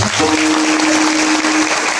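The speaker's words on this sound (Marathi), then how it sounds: "खरंच त्या साधूसाठी एकदा टाळ्या वाजवा." A large audience at a kirtan in Pandharpur claps in a dense, loud, continuous burst of applause that lasts the whole short stretch.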